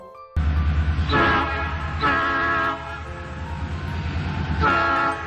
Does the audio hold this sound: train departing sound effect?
yes